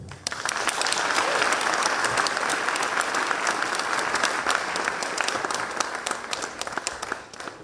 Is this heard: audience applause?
yes